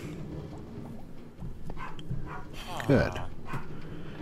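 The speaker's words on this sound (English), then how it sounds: "Clancy's barking about something." Clancy, a pet dog, gives a few short yips and a whimpering bark in the background of a room while someone talks over them.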